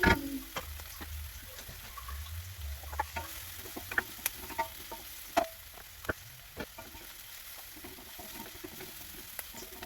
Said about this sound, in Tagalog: Bisa na natin ang sibuyas at bawang.